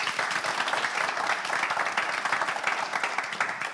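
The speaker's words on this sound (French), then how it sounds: "On l'applaudit encore, s'il vous plaît" Studio audience applauding a game show contestant, a steady dense wash of many hands clapping throughout, fairly loud and close, with no talk over it.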